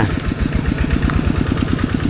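A farm tractor engine runs steadily up close in a rural village, its low, rapid chugging pulses holding an even rhythm with no talk over it.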